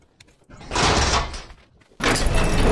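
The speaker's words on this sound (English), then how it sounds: "And then this is your prison door." A prison door in the video game Ark opens with a scraping slide lasting most of a second, a brief pause, then a second loud grinding slide begins, both heard alone.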